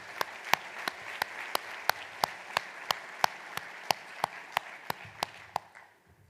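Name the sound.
audience applause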